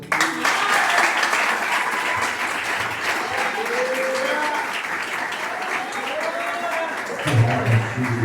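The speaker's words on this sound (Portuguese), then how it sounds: "pode aplaudir o Senhor" A congregation at a church service in Ipecaetá, Bahia, claps loudly and continuously for several seconds, with voices calling out over the applause and a louder swell near the end.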